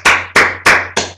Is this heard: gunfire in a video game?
no